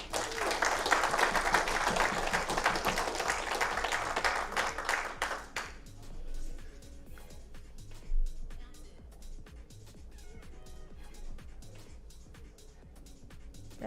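A pool hall crowd at a professional match applauds in a dense burst for about five seconds, then thins to a few scattered claps and soft talk in the room.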